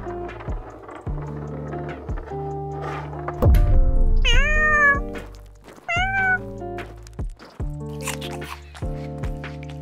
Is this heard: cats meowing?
yes